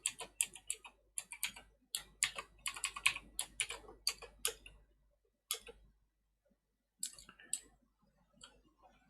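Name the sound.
typing a Wi-Fi password on a computer keyboard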